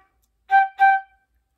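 A flute plays two short, crisp staccato notes in quick succession, each clipped off cleanly, up close and solo with silence around them.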